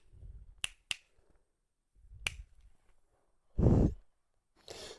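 Finger snaps made close to puppies: three sharp snaps early on and another a second later, with soft breathing and two loud sighs or breaths between them.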